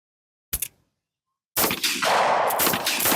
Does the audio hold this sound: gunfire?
yes